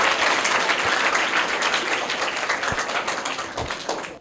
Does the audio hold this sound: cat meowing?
no